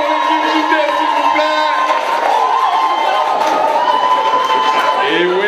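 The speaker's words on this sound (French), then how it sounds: "faites un tonnerre d'applaudissements pour l'équipe Djundé" Wedding guests at an evening reception cheer, whoop and shout for a team, a dense, loud crowd roar that stays steady throughout with children's shrill voices mixed in.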